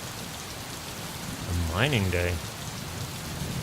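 Steady rain from the video game Gemini Rue falls throughout as a constant wash, with a voice speaking briefly in the middle; no clear thunder stands out.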